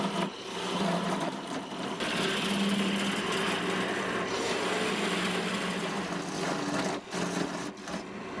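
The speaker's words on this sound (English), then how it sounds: "I'm using my diamond tip parting tool." A diamond tip parting tool cuts into locust wood spinning on a lathe, giving a steady, continuous scraping whir that holds level throughout with a brief dip near the end.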